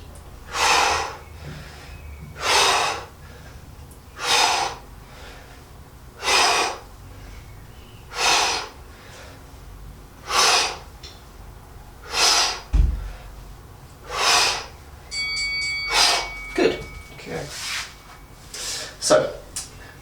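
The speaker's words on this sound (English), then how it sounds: "Get a rhythm with the breathing as well." Loud, rhythmic heavy breathing from a beginner bootcamp home workout, with about a dozen forceful exhales at a steady pace of roughly one every second or so, close to the mic with faint background noise.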